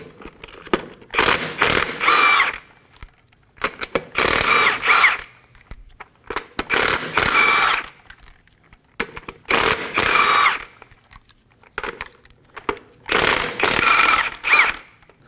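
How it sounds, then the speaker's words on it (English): A 21mm socket on a ratchet loosens the lug nuts on a 2016-2020 Kia Sorento 2.4L, five loud, close bursts of rapid clicking separated by short pauses. "Using a 21mm socket, we're going to remove the lug nuts."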